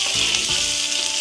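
Green chillies and onions frying in hot oil, a loud continuous sizzle with a couple of soft stirring knocks, no talking.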